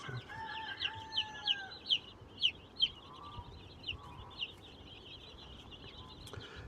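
Hatchery chicks peep in a rapid series of short, high, evenly spaced chirps that fade out, followed by quieter scattered cheeping, faint and close, over low background noise.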